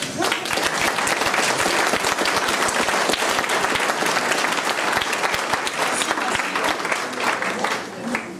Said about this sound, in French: Je vous demande de l'applaudir volontiers.